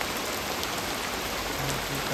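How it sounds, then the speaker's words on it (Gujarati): Heavy monsoon rain in a village near Botad, Gujarat, pouring steadily onto a surface, a dense, even hiss of drops filling the space without any talking. "પાણી દંદુડા મંડી ગયા થાય એવો વરસાદ આવે છે"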